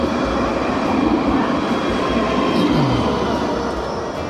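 A tram rolls along a city street, a steady close rumble of wheels on rails with a brief metallic squeal partway through, continuous and loud with no talk over it.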